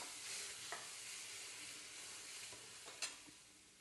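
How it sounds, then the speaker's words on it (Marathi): Semolina sheera being gently stirred in ghee, a faint, continuous sizzle with a few soft spoon scrapes, no talk. "ह्याला चांगलं असं हलक्या हलक्या हाताने असं सगळीकडून हलवून घ्यायचं 2-3 मिनिटासाठी."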